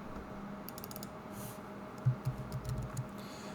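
Faint, quiet typing on a computer keyboard, a short burst of soft clicks at close range against a low room hum, with no talk.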